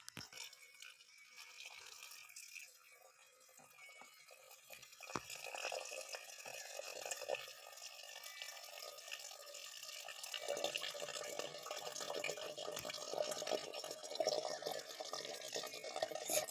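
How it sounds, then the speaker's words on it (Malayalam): Boiled and cooled water is poured into a jar of pickled baby mangoes, a soft continuous trickle with light splashing that grows fuller midway, close and fairly quiet. "തിളപ്പിച്ചാറിയ വെള്ളം ഒഴിക്കണം കേട്ടോ"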